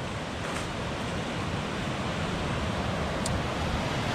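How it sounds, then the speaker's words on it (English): Steady broadband rush of a river flowing beside a hiking trail between Jones Gap and the Foothills Trail, a constant close wash of moving water with no voices. "Show you this amazing river that we're by."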